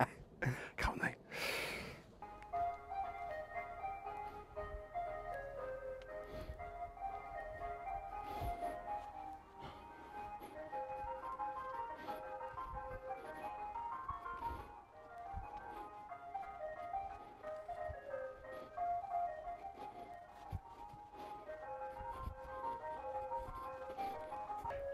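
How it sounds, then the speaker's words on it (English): An ice cream van plays its looping tinkly jingle steadily at moderate distance across a London allotment garden, with faint rustles and occasional soft voices beneath. "This sound is an ice cream van, which I'm not very, very happy with, but it stopped."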